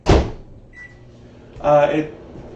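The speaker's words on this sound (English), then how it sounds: "I'm going to stick this, unfortunately again off camera, into the microwave" A microwave oven heating a cocktail ingredient: a sharp thump as the door shuts, a short thin beep, then a brief burst as it starts, with a voice speaking nearby.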